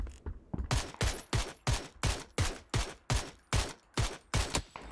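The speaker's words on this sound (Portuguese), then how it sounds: "Tomando tiro, velho." Gunfire in the battle royale video game PUBG: a rapid, evenly spaced series of about ten loud shots in quick succession, each a sharp crack with a short decay, with no talk over it.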